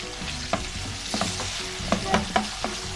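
Garlic, onion and ginger sizzle steadily in a hot pan for a mutton keema karahi, with a spoon stirring and scraping in quick, irregular strokes over the constant frying hiss.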